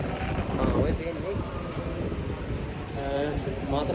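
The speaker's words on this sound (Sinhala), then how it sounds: "දැන් නම් වහිනවා කියන්නේ එකපාරට වහිනවා, එකපාරට පායනවා." Rain hisses down in a sudden shower over the coast at Matara, Sri Lanka, a steady broad wash mixed with wind buffeting, while someone talks over it.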